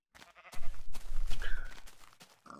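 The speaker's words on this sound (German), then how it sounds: "Ah, Schafe." A sheep in the Minecraft video game bleats once in a short, wavering call in the middle of the clip, set against a dense game background with brief sounds before and after.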